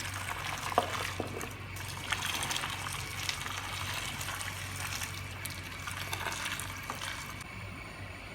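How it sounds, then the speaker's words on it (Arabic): Hot broth is poured over a pot of stuffed eggplant mahshi, giving a faint, continuous trickle and splash of liquid with a few small knocks. "وهبدا ان انا اسقي المحشي بتاعي بالشكل ده كده"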